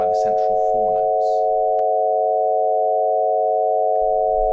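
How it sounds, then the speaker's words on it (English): The Hyasynth custom synthesizer holds a sustained chord of pure, steady sine-like tones with combination tones, loud and unchanging for several seconds, with brief speech heard over it at the start and the end. "when I add in all of the combination tones, it creates quite a beautiful chord"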